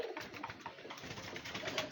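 Steady murmur of pigeons cooing together, soft overlapping coos and rustling with no talking.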